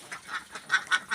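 Laying ducks on a small farm flock of about two hundred quack in short, nasal bursts, four or five calls in quick succession, close and moderately loud with no talk.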